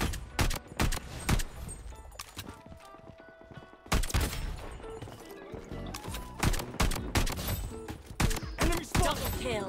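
Desert Eagle pistols in the mobile shooter Bloodstrike fire in loud, sharp shots and quick clusters, mixed with other in-game effects and gunfire all through.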